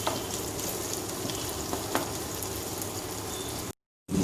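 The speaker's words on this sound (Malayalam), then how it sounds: "ഒന്ന് കടിക്കുന്ന രീതിയിൽ ചെറുതായിട്ടൊന്ന് വഴറ്റിയെടുത്താൽ മതി." Restaurant-style chilli chicken ingredients being lightly sautéed in a pan, an even close sizzle with a few stirring scrapes, cutting briefly to silence before resuming, with no one talking.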